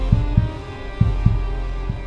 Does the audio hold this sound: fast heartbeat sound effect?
yes